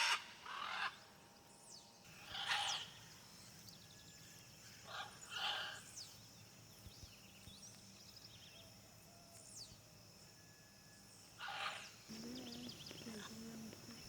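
Macaws in the Amazon rainforest give several harsh, scattered screeches, some close and some farther off, over a faint steady background hum.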